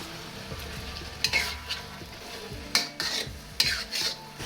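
Spring onions are stirred into Mongolian beef in a hot pan, with a steady sizzle and several sharp utensil scrapes and clanks against the pan, close up and with no talking.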